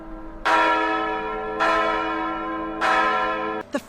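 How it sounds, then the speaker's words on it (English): Parish church bells ring for mass, three loud, resonant strikes about a second apart, each tone fading slowly into the next, with no voices. "Nor the sound of the parish bells calling to mass."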